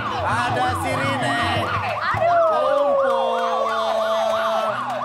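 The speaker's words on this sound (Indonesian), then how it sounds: "Ada sirine." Wailing emergency vehicle siren, loud and close, cycling steadily up and down throughout over a low background rumble of traffic.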